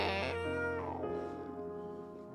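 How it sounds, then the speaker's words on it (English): A cat meows in a single drawn-out, wavering call, clear and fairly close, with no talk over it. "Do you hear that cat?"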